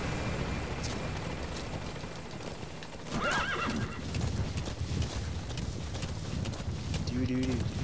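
A horse in Metal Gear Solid 5: The Phantom Pain whinnies and snorts over steady clip-clopping hooves, close and moderately loud against a constant background hum.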